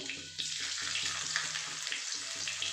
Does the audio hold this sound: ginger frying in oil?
yes